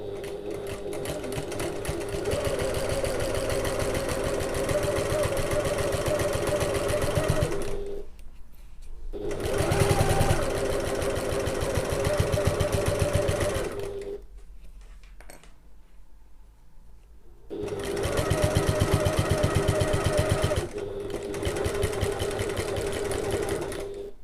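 A sewing machine top stitching a seam from end to end, running in three long steady buzzing stretches separated by brief pauses, close and fairly loud.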